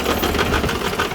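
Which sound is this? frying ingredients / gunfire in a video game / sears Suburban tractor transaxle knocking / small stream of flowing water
sears Suburban tractor transaxle knocking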